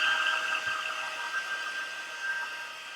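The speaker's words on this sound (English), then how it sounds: "if you use your heat tool, you can kind of, it melts the adhesive on these stickers" A handheld heat tool blows hot air to melt the adhesive on stickers on a Dollar Tree pumpkin decor piece, giving a steady close whooshing whir with a thin constant whine that holds without a break.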